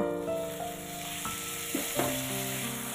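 Ginger, garlic and onion paste sizzles in hot oil for a cabbage dish, a steady bright frying hiss with occasional scrapes and clinks of a spoon against the pan.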